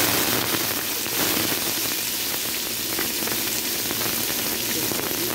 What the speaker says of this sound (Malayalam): അതിലേക്ക് അരിഞ്ഞ് വെച്ച നീരുള്ളി ചേർക്കുക.